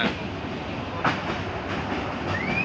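A train runs on a rail line through forested hill country near Sylhet, heard from on board as a steady close rumble with rhythmic wheel clatter and a brief high squeal near the end.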